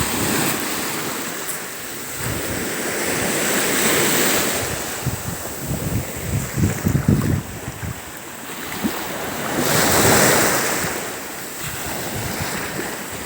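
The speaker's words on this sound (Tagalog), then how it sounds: "Napakalakas ng alon, hangin." Strong surf rolls onto a beach at a Pamana Beach House resort during a storm, waves crashing in repeated surges under steady gusting wind that buffets the microphone, with no talking.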